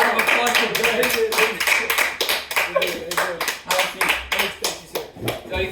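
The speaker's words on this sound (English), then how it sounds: "If you give a round of applause for Ben." A small podcast audience gives a guest a short round of rapid clapping, loud and close, mixed with voices talking over it.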